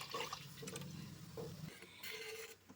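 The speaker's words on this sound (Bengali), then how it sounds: "এবার 1 লিটারের মতো দুধ আমি দিয়ে দিচ্ছি পাত্রটার মধ্যে।" About one litre of strained milk poured into a cooking pot, a close liquid splashing and filling sound with a few brief gurgling bursts over roughly three seconds.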